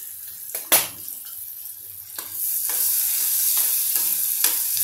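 Half an onion drops into hot tempering oil for a Marathi cowpea curry, giving a sharp hiss that settles into a steady, close sizzle, with a few clicks of a spoon stirring the pan.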